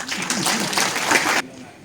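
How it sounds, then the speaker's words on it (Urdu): Audience applause at a World Minorities Rights Day celebration, a dense burst of clapping from a crowd that cuts off abruptly after about a second and a half, with some voices mixed in. "آپ اپنے لیے بھی کچھ تالیاں بجا دیجیے"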